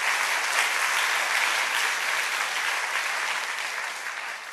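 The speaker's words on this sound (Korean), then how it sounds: "우리 큰 박수로 한번 격려해 주시면 감사하겠습니다" Sustained applause from a church congregation for its youth group, a dense steady wash of many hands clapping that carries on for several seconds and tapers slightly toward the end.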